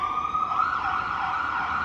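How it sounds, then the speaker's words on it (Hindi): An ambulance siren wails steadily as it passes through a downtown street, loud and continuous throughout with a faint hum of road traffic beneath it. "कभी कभार यहाँ पे भी एम्बुलेंस की आवाज़ सुनाई देती है जी।"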